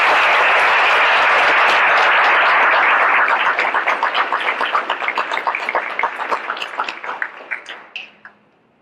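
An audience at a Hall of Fame ceremony bursts into loud, dense applause that holds steady for a few seconds, then thins into scattered individual claps that fade out.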